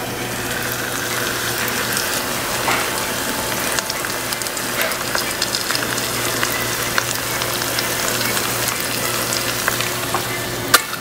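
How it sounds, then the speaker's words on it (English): Breaded chicken sizzles and crackles steadily in hot oil in a frying pan, a dense continuous frying hiss with small pops scattered throughout and no voices. "so our oil is sizzling now"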